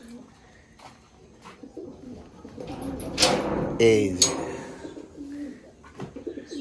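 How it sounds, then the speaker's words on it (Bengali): Pigeons coo in a new rooftop loft room, soft repeated calls near and far, while someone talks and a door knocks or slides partway through. "এই পাশে আমাদের কবুতর থাকবে"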